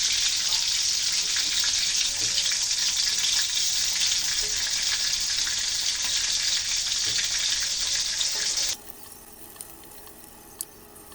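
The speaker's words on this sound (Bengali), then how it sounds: "তেলটি গরম হয়ে গেলে আলতো তাপে বলগুলো সুন্দর করে ভেজে নেব" Steady loud sizzling of meatballs frying in hot oil fills most of the clip, then cuts off abruptly to quiet with a few small clicks.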